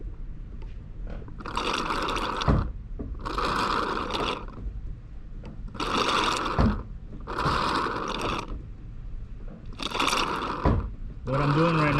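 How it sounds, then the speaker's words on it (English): A noisy, slow Power Pole hydraulic pump being cycled up and down produces repeated whirring, gurgling surges of pushed fluid, about six rhythmic bursts with short pauses between, close and fairly loud. "I'm lifting the thing up and down just to push that fluid out"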